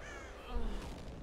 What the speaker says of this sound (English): Freaking crows, man.